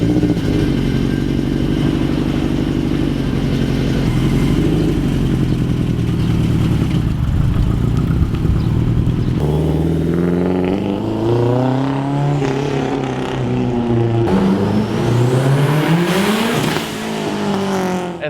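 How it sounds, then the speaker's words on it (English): Subaru Legacy wagon with a modified STI turbocharged engine accelerating hard, a loud, dense engine roar climbing in pitch through the gears, close and continuous. "These turbochargers have a pretty wide power band and they are responsive and very nice to drive on a road car like this."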